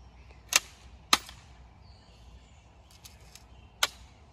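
Three sharp, distant-sounding shots from a Colt M4 carbine firing 5.56 rounds at an outdoor range, spaced irregularly over quiet background with faint metallic ticks between them and no talking.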